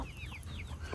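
Roosters and hens squabble in a village yard, a burst of sharp, close clucking and squawks over a steady background hum, lasting about a second.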